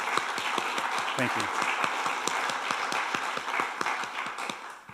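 Audience at a tech meetup on AI gives steady applause, crisp rhythmic claps close by and sustained throughout, with a brief spoken word partway through before the clapping tapers at the end.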